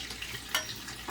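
Garlic frying in oil with added water while making chili-garlic sauce, a steady close hiss and crackle of sizzling with a brief sharper pop midway, no voices.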